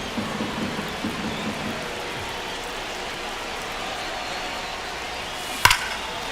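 Steady rain hiss over a baseball field in MLB The Show 25, a constant soft wash of falling drops with a single sharp crack near the end.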